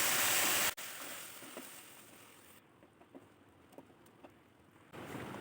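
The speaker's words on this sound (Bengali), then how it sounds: "একটু হালকা ব্রাউন হলেই এর মধ্যে আমি দিয়ে দিচ্ছি 1 কাপ দুধ" Milk poured into lightly browned onions in a pan for a creamy white sauce pasta, giving a soft, steady hiss that drops after the first moment, with faint clinks and stirring taps over a low sizzle.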